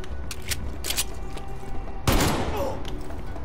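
Gunfire in the video game Black Ops: Cold War: a rapid volley of sharp shots crackles over a busy game background, then a heavier burst lands at close range, with voices talking faintly underneath.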